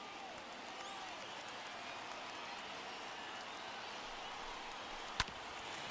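A simulated stadium crowd of more than 31,000 in the baseball video game MLB The Show 21 rises and cheers, a steady, broad wash of distant roar with one sharp crack near the end.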